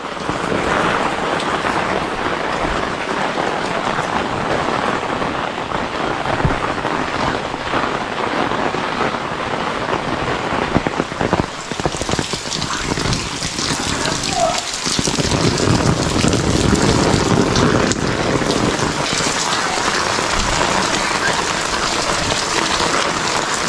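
Steady rain falls over a village in the Konkan region, a continuous close hiss of drops on surfaces that gets somewhat louder and brighter in the second half.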